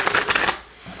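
Tarot cards are shuffled close up in a fast, papery riffle for about half a second before the sound drops to near silence.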